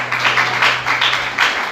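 A church congregation applauds steadily, many hands clapping together in a loud, continuous wash with slight rhythmic swells, heard close and without talk.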